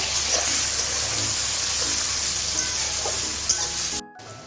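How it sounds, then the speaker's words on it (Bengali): Chopped onions frying in hot oil until golden, producing a continuous dense sizzle with faint stirring, steady and fairly loud before cutting off abruptly near the end. "পেঁয়াজটা আমি হালকা গোল্ডেন করে ভেজে নেব"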